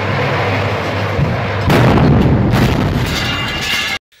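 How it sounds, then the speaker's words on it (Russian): Furnace number 13 blows up at the Zlatoust metallurgical plant during a night shift: a loud, close, continuous roaring blast that swells suddenly midway and keeps rumbling before cutting off abruptly. "Мощный взрыв на заводе в Златоусте."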